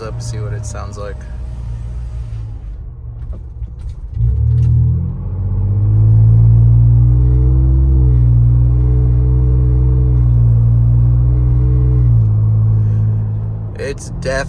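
Muffled low drone of a Ford Bronco 2.7L with a Flowmaster FlowFX exhaust, heard from inside the cabin with the windows rolled up, rising to a steady loud rumble under acceleration, with brief talk at the start and end.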